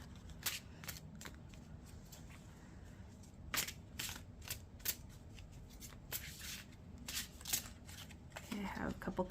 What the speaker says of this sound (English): I did see them as I'm shuffling